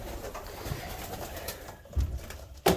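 Breeding pigeons in a loft give soft low coos, with a couple of short, slightly louder calls near the end over a faint background hum.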